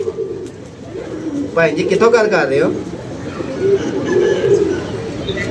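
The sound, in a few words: pigeons cooing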